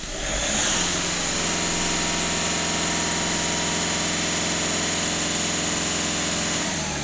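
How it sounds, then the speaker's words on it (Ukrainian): A 1.6 TDI diesel engine in a VW Touran idles steadily and close, a low even rattle and hum holding for several seconds before cutting out. "І двигунчик зараз працює без ніяких проблем."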